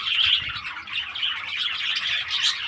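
Budgerigars chirp and squawk in a busy, continuous stream of high twittering calls, fairly close and moderately loud, with no talking.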